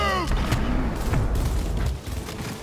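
Gunfire in the video game Cyberpunk 2077: a couple of sharp booming shots over a rumbling low-frequency game soundscape, brief and fairly loud.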